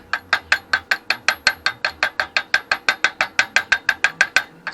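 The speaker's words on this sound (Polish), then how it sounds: "Jeszcze pukniemy młotkiem, zobaczymy." Rapid, evenly spaced metallic taps from a hammer on a heavy harrow, about five per second, sharp and close, continuing steadily without pause.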